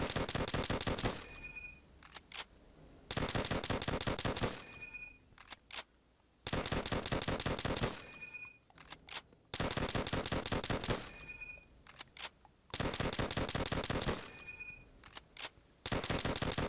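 Rapid semi-automatic gunfire from an M1 Garand rifle in the video game Call of Duty: World at War, fired in repeated bursts of quick, crisp shots about a second and a half long, separated by short silences.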